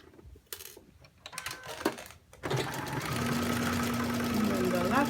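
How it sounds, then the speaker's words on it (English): A sewing machine runs a straight stitch along a shirt placket, first a few scattered clicks and handling noises, then a loud, steady mechanical whir with rapid needle chatter for the last couple of seconds, close by. "we're gonna go ahead and do a straight stitch, like an L shape, from the top to the bottom."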